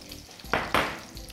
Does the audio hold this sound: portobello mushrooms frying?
yes